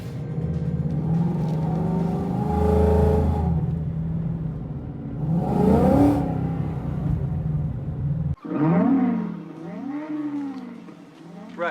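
A turbocharged car exhaust with a modified Interceptor-style note, running in quiet mode, gives a low steady drone that swells twice into deep growling revs, then cuts out and returns with a rough, wavering rumble.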